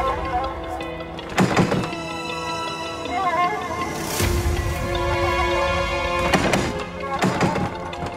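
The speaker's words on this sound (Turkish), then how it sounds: "kapıları kilitlemişler" Heavy palace doors thud and clunk shut as they are locked, a few loud knocking impacts spaced across a quiet room with faint voices.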